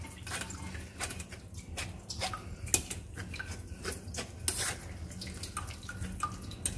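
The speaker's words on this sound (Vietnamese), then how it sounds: "Ép để cho nó ra hết cái phần nước cốt này đi." Juice from pressed Mexican mint leaves, being squeezed out for homemade cough syrup, drips and splashes into a kitchen container in an irregular run of small wet taps and trickles.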